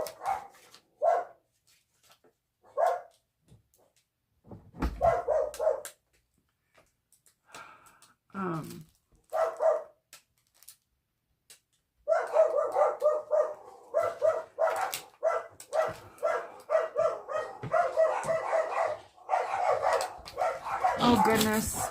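Several dogs bark in sharp bursts near the camera, first spaced apart and then in a dense, loud run of yips and barks that ends the stretch.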